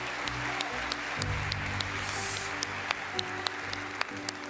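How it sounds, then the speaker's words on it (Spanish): Steady applause from an audience at a university awards ceremony fills the whole stretch, with a few sharper individual claps standing out against the continuous wash of hands. "Enhorabuena también, un aplauso."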